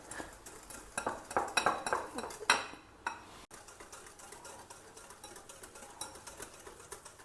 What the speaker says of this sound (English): Whisk the curd and sugar well till the sugar dissolves.